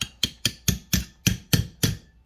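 Old brake parts on an International 300 Utility tractor are struck with a hammer and punch, making eight sharp, evenly spaced metallic blows that ring briefly, close and loud.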